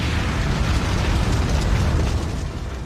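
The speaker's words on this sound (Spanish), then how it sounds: "Nuevamente, un B-29 arroja la bomba atómica." The 1945 atomic bomb explosion over Nagasaki, dropped from a B-29, comes through as a continuous loud, dense roaring rumble with crackling bursts that hold for about three seconds before easing slightly.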